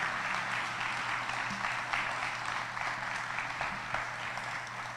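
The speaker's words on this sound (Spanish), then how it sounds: "Quisiera que le ofreciéramos un fuerte aplauso al maestro" Applause from an audience at a law and social sciences faculty lecture on digital government, a steady wash of clapping held at a moderate, distant level with a faint low hum underneath, no voices over it.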